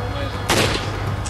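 A single loud sniper rifle shot cracks out in the video game Resident Evil 5, a sharp broadband blast over steady low game ambience.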